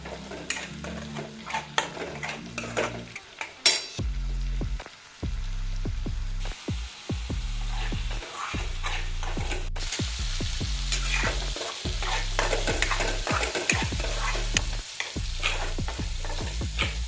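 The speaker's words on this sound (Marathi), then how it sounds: "मंद आचेवर थोडा वेळ फ्राय करून घेऊया." Onion paste frying in oil on a low flame for palak paneer, with a steady close sizzle and repeated scraping stirs of a spoon against the pan throughout, no talking.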